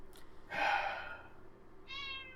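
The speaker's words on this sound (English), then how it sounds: "Cute meow." A house cat gives a single drawn-out meow, then a shorter rising mew a moment later, both fairly close but quiet indoors, with no talking.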